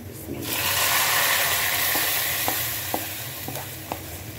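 Browned onions sizzle steadily in a hot pan while being stirred, with a few sharp utensil clicks against the pan over the continuous frying hiss.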